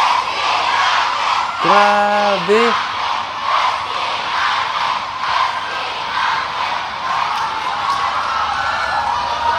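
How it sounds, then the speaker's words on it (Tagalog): A concert crowd waiting for a group at a festival fills the air with continuous shouting and screaming, a dense roar with swelling peaks, while a nearby voice calls out briefly over it. "napakalakas ng sigawan at tilian ng audience habang naghihintay sa grupo"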